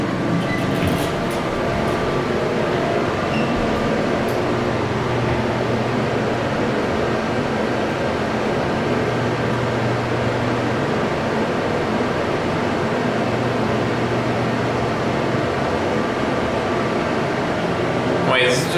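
The motor of a scenic hydraulic elevator in a university building runs with a steady, even drone for the whole stretch, with voices faintly present.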